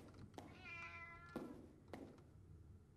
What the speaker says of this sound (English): I hear the kitty!